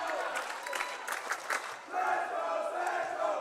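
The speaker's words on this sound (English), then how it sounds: "Crowd is pretty pumped in this one." Crowd at a women's college volleyball match in a gym, a sustained roar of shouting and cheering with a brief dip midway before swelling again, heard under a commentator's voice.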